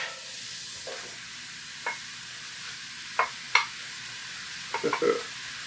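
Eggplant and ground meat fry in a pan for mabo nasu under a continuous quiet sizzle, with a few sharper scraping and clattering stirs, the busiest cluster coming near the end.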